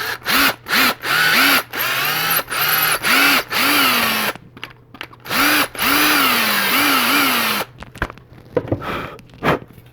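Power drill enlarging a hole in a custom Gladiator knife kit, whining in about a dozen short bursts with pitch rising as each spins up, close and loud with brief pauses between, then a few clicks and handling knocks.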